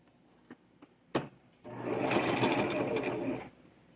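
A sewing machine stitches a French seam in one steady run of about two seconds, close and fairly loud, preceded by a few small handling knocks and a sharp click.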